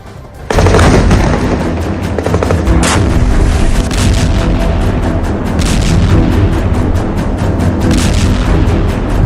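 Continuous loud barrage of explosions and gunfire from an Israeli airstrike on Gaza, heavy booms and crackling blasts rumbling without pause from start to finish.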